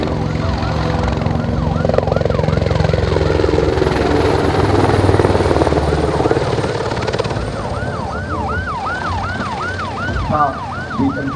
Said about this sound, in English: The patrolling helicopter is now conducting air reconnaissance